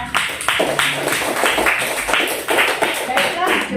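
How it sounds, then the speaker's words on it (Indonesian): A class of students claps together in a dense, fairly close round of applause with rapid, slightly uneven claps sustained throughout, a voice faintly present underneath. "aplaus buat semuanya yang sudah"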